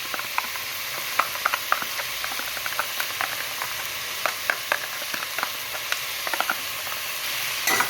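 Chicken biryani masala with yogurt stirred in a pot, a constant bright sizzle and bubbling hiss with light scraping ticks of the spoon scattered throughout, close and without talk.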